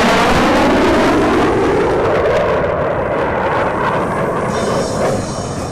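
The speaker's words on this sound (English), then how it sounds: "one jet to the left, one coming in behind." Military jets at an air show roar overhead in a loud, sustained, broadband blast that swells and slowly fades as they pass close by.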